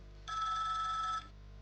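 A phone rings once with a steady electronic trill lasting about a second, set against a low background hum.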